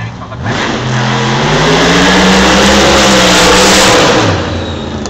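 A powerful drag car engine roars loudly at Sydney Dragway, revving up and holding a rising, raspy howl before easing off near the end.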